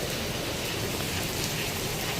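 Steady rain falls heavily and continuously, a dense even hiss of drops on surfaces close by, with no voices.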